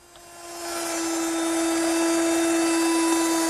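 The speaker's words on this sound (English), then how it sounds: "I'll do that using my router with a chamfering bit" A router fitted with a chamfering bit spins up and cuts along an oak edge, a steady high whine rising in the first second and then holding loud and close with no pauses.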